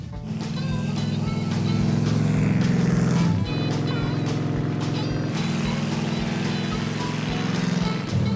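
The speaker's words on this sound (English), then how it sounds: "Now let's see what the Bel Air can do on some snow tires." A Chevrolet Bel Air on snow tires being driven hard on a track, its engine droning loudly and steadily from close by, with revs dipping briefly at gear changes and rising again.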